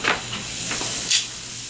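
Sirloin steak hisses and sizzles on a hot grill as it is turned over, a short burst of frying noise with a couple of brief bright flares, heard close and alone without talk.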